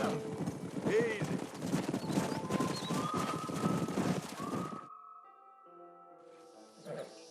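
A horse gallops in Red Dead Redemption with rapid, steady hoofbeats under a voice, heard close for several seconds before the hooves cut out, leaving a quiet musical tone and a brief snort.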